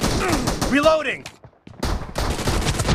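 Video game gunfire in a gun-game match, with rapid bursts of shots up close, a brief near-silent gap, then more firing, overlapping with a voice talking.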